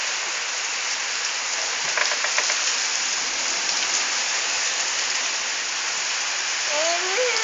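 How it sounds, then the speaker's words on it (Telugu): Steady rain pours down as a dense, continuous hiss, close and fairly loud throughout, with a few brief voices over the downpour toward the end. "వానొస్తుంది."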